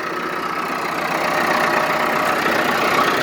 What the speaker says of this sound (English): an old AGCO tractor